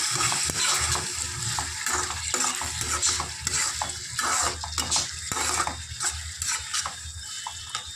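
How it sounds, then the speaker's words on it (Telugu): A spoon scrapes and stirs steadily through dried prawn and tomato curry in a pan, rhythmic clicks and scrapes over a soft sizzle, close and fairly loud. "మళ్ళీ మొత్తం ఒకసారి తిప్పుకోవాలి"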